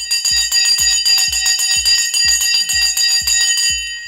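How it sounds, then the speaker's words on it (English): A stock market opening bell clangs loudly and rapidly, struck about twice per second in a steady metallic rhythm for several seconds before fading at the end. "The bell has gone,"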